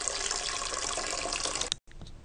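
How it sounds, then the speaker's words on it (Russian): Water drained from grapes pours steadily into a pot with a bright splashing rush, close by, stopping briefly before a smaller trickle resumes. "Сливаем воду с винограда в кастрюлю."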